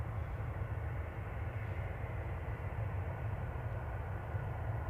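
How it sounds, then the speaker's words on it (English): Lufthansa Airbus A320neo arriving at Manchester Airport from Munich, a steady, continuous low engine roar with no distinct peaks, held at an even moderate level throughout, without voices. "Another Lufthansa coming in from Munich."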